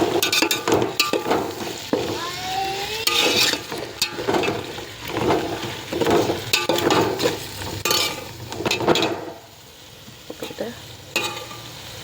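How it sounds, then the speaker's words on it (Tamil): Vegetables and veg biryani ingredients are sautéed in oil in a pan, sharp scraping stirs of a spoon against metal repeating irregularly over a soft sizzle, close up, quieter near the end, with no voices. "நல்லா அப்படி வதக்கிடுங்க. வதக்கி விடுங்க. இந்த எண்ணெயிலே இது கொஞ்சம் ஃப்ரை ஆனால் டேஸ்ட் நல்லாயிருக்கும்."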